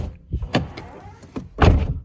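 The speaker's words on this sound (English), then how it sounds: "The door, if we open it," Door of a Chevrolet Camaro SS 1LE fitted with a race seat opening, a few close mechanical clicks and a latch release followed by a louder thunk as the door swings out, no talking.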